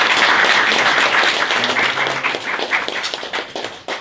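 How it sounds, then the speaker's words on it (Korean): An audience at a food-franchise business meetup claps to welcome a speaker. The close, bright applause is steady at first, then thins into scattered individual claps as it dies away. "큰 박수로 부탁드리겠습니다."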